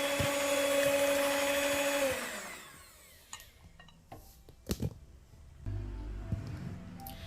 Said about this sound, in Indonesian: Kemudian mixer lagi sebentar agar pasta pandannya itu tercampur rata.